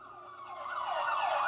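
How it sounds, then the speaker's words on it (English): A wailing siren rises and falls in sweeping cycles, growing gradually louder as it approaches. "Oh, never mind the sirens, Bill."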